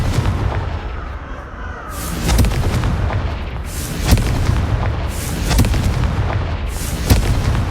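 Confringo fire spells in Hogwarts Legacy detonate as four loud, booming blasts spaced a second or two apart, each bursting over continuous rumbling game ambience.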